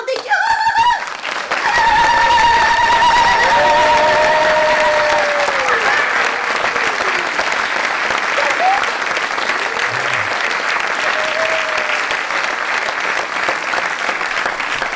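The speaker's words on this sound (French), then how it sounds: "sous une salve d'applaudissements, je vous demande d'accueillir le grand, le merveilleux Rufus, ici maintenant, à Pordic." Audience at a stage show in Pordic gives a sustained, loud burst of applause welcoming a clown performer, steady clapping filling most of the clip with some whistles and cheers mixed in.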